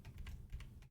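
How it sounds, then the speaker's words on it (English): Rapid clicking of fingers typing on a computer keyboard during a programming lesson, a steady run of close keystrokes that stops abruptly near the end. "I'm typing it."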